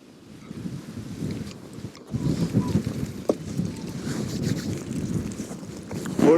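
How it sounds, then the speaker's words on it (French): Cold night wind at a lake in the Jura buffets the microphone in a rough, steady rumble that rises and falls in gusts, with no clear voices. "Oh le petit vent frais là."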